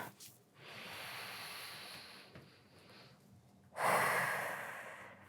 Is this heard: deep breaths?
yes